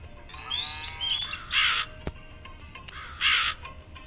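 Crows caw in the Meena 2 mobile game, two loud harsh caws separated by a sharp click, with faint game sounds between.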